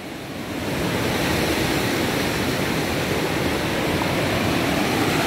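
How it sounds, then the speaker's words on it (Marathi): Ocean surf roars steadily, waves washing in one after another as a dense, continuous rush of water with no voices. "समोर आहे ना एक 4-5 सलग लाटा येत आहेत"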